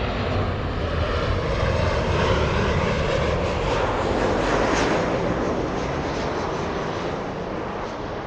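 Airliner landing at Los Angeles LAX airport, a loud continuous engine roar close by that swells and then slowly fades, heard alone without talk.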